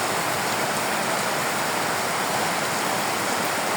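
Heavy rain falls on the tin roof of a village house, making a loud, unbroken roar of dense drumming hiss with no pauses or voices.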